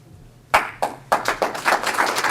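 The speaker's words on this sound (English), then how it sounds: "a round of applause for the students for their hard work, over the past 4 years." Audience at a Rotary Club scholarship presentation starts clapping after a brief lull, a few separate loud claps building quickly into steady, dense applause close by.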